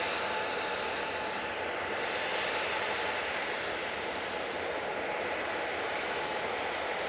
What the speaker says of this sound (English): and Ryanair coming on in front of us.